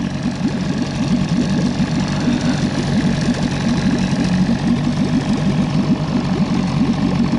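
A Johnson/Evinrude 6/8 outboard motor idles on a PVC boat, a loud, steady, close putter with a fast, even ticking rhythm running the whole time, no voices.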